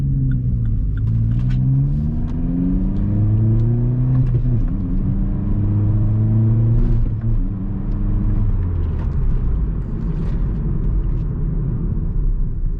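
A Vauxhall Corsa engine revs up and down in rising and falling sweeps over a steady low rumble as the car turns around, close by and continuous, with no one talking.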